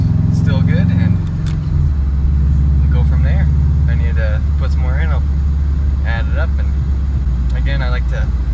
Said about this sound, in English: I'm just gonna take a little drive here